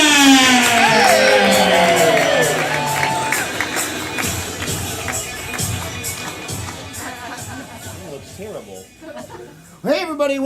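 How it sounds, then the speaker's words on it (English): A crowd cheers and shouts wildly for the host of a live main event, a loud, sustained roar with whoops that gradually eases before a sharp burst near the end, with voices talking over it. "He said as the crowd went absolutely insane"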